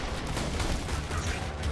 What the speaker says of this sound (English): Rocket launcher go.